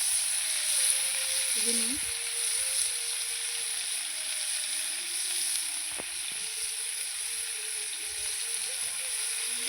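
Young jackfruit frying in a pan with salt and turmeric, a steady close sizzle and hiss running throughout while someone talks over it.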